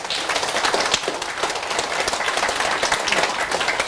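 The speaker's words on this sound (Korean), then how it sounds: "박수." A crowd applauds, steady dense clapping that keeps an even level throughout without any voices standing out.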